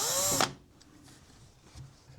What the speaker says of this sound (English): We can use a power drill to back out.